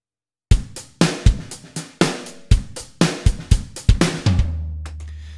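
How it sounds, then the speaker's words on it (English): A MIDI drum loop playing back in Logic 8: a steady pattern of punchy kick and snare hits with bright hi-hats, ending on a sustained low tone, loud and alone with no talking. "bog standard drum loop, that's fairly straightforward"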